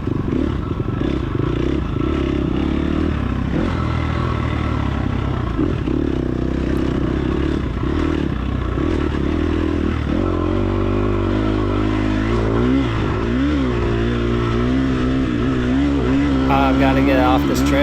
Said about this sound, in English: I think I was just slipping the clutch while you heard the RPMs rev up like that.